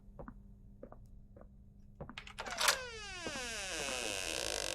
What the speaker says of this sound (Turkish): niye bu kadar kötü ya bu kapı açılma sesleri?